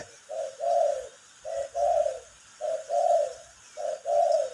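Pigeon or dove cooing in repeated two-part phrases, four bursts with short pauses between, fairly close and clear over faint background hiss.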